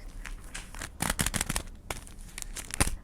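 Paper sticker bag being peeled off and pressed down, close crinkling and tearing rustles in uneven bursts, densest in the middle with sharp crackles near the end, no voices.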